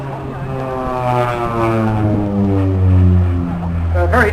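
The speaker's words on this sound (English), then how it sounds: "A very agile aircraft, as you can see." OV-10 propeller aircraft flying at the Sunderland airshow, a loud, close droning engine and propeller hum with tones that slowly shift in pitch as it manoeuvres past.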